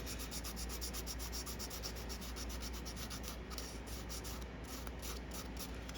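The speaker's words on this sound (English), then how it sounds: "I'll go with dry sanding a little bit more." Dry sanding on a model pirate ship, a soft continuous scratchy rubbing close by with a fast back-and-forth rhythm, faint and unbroken.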